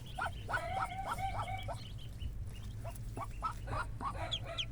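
A mother hen clucks softly among her newly hatched chicks in a series of short rhythmic calls, with quieter chirps and clucks between them over a low background hum.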